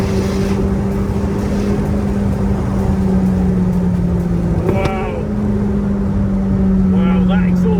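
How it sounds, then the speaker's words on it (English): McLaren 600LT Spider exhaust with a steady engine drone and a brief crackle near the middle, heard close over continuous road noise. "that exhaust crackle as well."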